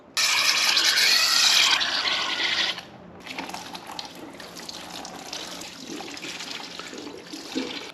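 Gasoline sloshes and trickles as a car part from an 1988 Honda CRX Si is submerged in a cleaning bath: a steady close pour that drops into quieter gurgling and dribbling.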